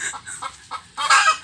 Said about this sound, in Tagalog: Ayan, maingay na naman ang manok.